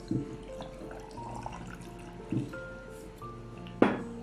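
Water is poured into a jar of green bean pickle, giving a quiet, close trickle with a few soft splashes and a brief louder gurgle near the end.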